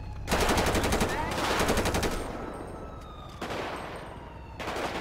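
Bursts of automatic gunfire in the video game GTA 5 with the LSPDFR police mod, three or four loud, rapid rattling volleys separated by brief pauses, close and dominant.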